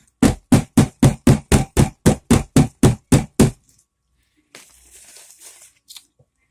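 A soap mold is tapped against a surface in a quick, even run of about a dozen sharp knocks, followed by quieter rustling and shuffling.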